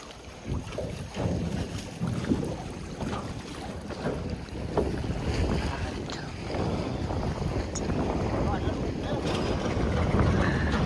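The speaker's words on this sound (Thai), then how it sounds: "ลมแรงมาก" Strong wind buffets the microphone outdoors in Don Tan district, a steady heavy roar that builds toward the end, with faint voices underneath.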